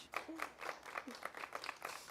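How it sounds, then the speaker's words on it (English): A small wedding audience at The Ravenswood claps for the ceremony assistants in a short, fairly quick patter of hand claps, close by and continuous for a couple of seconds. "can I just ask for a little clap for my assistant, Helen and George?"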